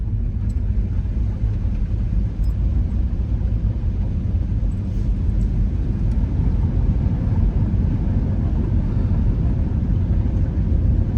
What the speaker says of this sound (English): Harvey, we're going right through the water.